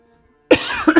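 A single close cough bursts out after a moment of near silence, followed by a couple of smaller throaty coughs.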